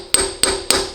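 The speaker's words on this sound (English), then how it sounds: "Now we're gonna hit it in with the socket" Three or four close metallic hammer blows ring out at an even pace as a socket taps a shift rod seal into place.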